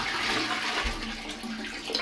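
Liquid is poured steadily down a blocked toilet drain, a continuous close splashing and gurgling rush of water with no talking.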